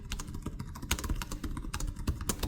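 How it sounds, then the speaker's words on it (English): Rapid clicky keystrokes on an Asus ROG Zephyrus G14 (2024) gaming laptop keyboard, a dense, close, steady patter of sharp taps with no voices. "The Zephyrus has more clicky keys"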